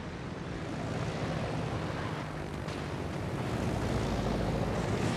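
Aircraft in the naval battle game World of Warships, fighter planes being shot down, heard as a dense, continuous roar of engines and explosions that stays loud throughout, with no speech.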